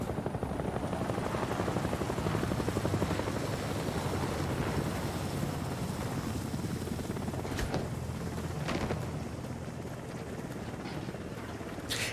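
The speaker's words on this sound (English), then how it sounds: "I like the detail on the helicopters" Helicopters flying in the video game House of Ashes, a loud continuous rotor roar with rapid chopping pulses and wind-like rush, steady throughout with no talking.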